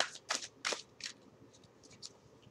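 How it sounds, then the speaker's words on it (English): Tarot cards being shuffled by hand: a few quick, crisp riffling bursts up close, then softer scattered card flicks, quiet and without speech. "These ones are a little bit harder to shuffle."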